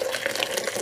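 Boiled water from a kettle is poured into a home-brew tin, a short, close gush of splashing liquid.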